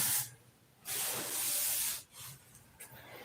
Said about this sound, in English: you need to spray a coat of that tinted on there and sand the whole thing